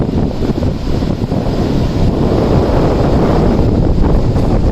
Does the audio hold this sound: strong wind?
yes